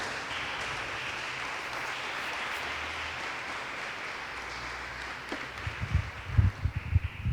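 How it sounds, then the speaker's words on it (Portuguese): A church congregation applauds in a steady wash of clapping that gradually thins, followed by a few low thumps near the end. "Se puder aplaudir, eu acho que seria bom."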